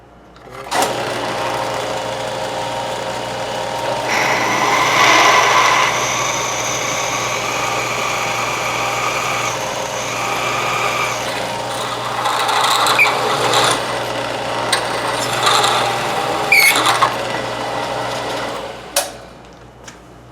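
A drill press with a square-column fix reams holes to size: a steady motor whine with a high machining tone, close and loud, running for about twenty seconds, with brief clicks and knocks near the end.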